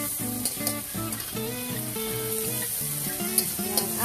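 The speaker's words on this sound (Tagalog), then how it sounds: "Igisa lang ito guys mabuti. Hanggang sa maturog yung kamatis." Tomatoes, garlic and onion sauté in a pan for pork menudo, giving a steady close sizzle and frying hiss throughout, with a few brief stirring clinks and a loud background melody running underneath.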